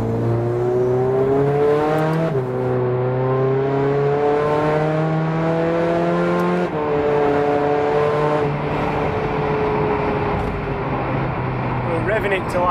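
A 386 bhp VW Caddy van with a 2.0 TDI CR engine, DSG gearbox and 4Motion drive accelerates hard, its diesel engine note climbing through rising revs with quick drops at gear changes, loud inside the cabin while people talk over it.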